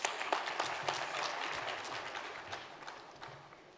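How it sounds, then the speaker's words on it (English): Dense audience applause fills a conference closing plenary session, loud at first and gradually fading over a few seconds. "A round of applause for Ashish Thacker."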